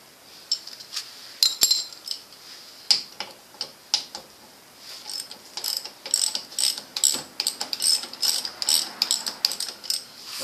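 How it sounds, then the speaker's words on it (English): A hand ratchet clicks as it loosens the idler wheel nut on a snowmobile's torque reaction slide suspension, brisk irregular bursts of sharp ticks close by, faint and with no talk. "first thing you're going to undo is you're going to loosen the idler wheel nut, which is this nut right here."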